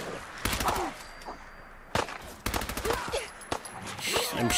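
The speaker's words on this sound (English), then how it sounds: "I'm shooting you with exploding bullets, and you're not dying." Rapid bursts of exploding-bullet gunfire in Fallout 4 crack out in clustered volleys, loud and close, with brief pauses between strings of shots and faint in-game background noise.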